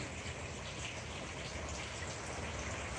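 Rain falls steadily through a wet day, a faint, even patter of drops on surfaces heard from a distance, with no other sounds or voices.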